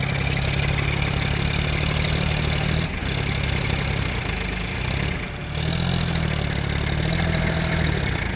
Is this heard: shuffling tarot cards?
no